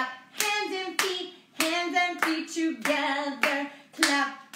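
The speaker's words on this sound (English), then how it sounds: "Clap, clap, hands and feet together" Kids clap their hands and feet together in a yoga game, making a run of sharp, close claps in an uneven rhythm under a sung, melodic voice.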